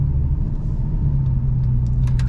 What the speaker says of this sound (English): You can hear that Akrapovic exhaust very well.